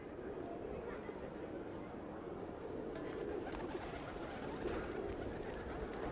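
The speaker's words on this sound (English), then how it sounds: "Even the lowly street pigeon, with its simple black, white, and gray nuances, is a fascinating creature" Street pigeons coo softly in a square, their low murmuring calls blending into a constant wash of outdoor background noise.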